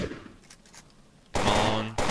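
Loud rapid automatic gunfire in the zombie-survival game Fort Zombie, a burst of machine-gun shots arriving after a quieter opening and continuing to the end.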